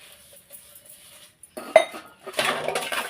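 Dishes and metal utensils handled in a home kitchen, soft scattered clinks at first, then a sharp clatter and a busier burst of clanking pots and plates near the end, no talk.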